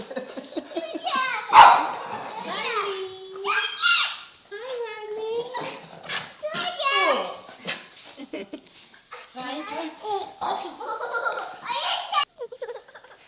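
Dogs bark, yip and whimper excitedly in quick bursts, close by, mixed with a voice and other people talking.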